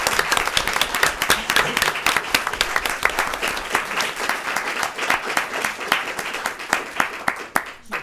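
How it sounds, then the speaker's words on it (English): Applause breaks out for senior scholars at a school committee meeting: a roomful of people clapping briskly and steadily, with individual sharp claps standing out close by, lasting about eight seconds. "how about a round of applause for our senior scholars?"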